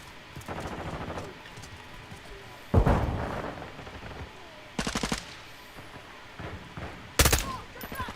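Bursts of automatic gunfire ring out in Call of Duty: Modern Warfare II, several sharp rapid volleys separated by quieter gaps, loud and close with a brief voice calling out between them.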